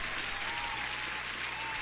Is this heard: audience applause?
yes